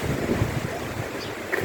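Strong cyclone wind roars continuously, with heavy storm noise and wind buffeting the microphone close by, a loud unbroken rush with no voices.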